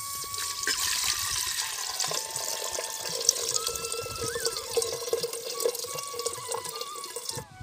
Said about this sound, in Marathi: अशी फोडणी झाली जरा थोडीशी गोल्डन कलरची झाली की त्यामध्ये पाणी टाकून घ्यायचं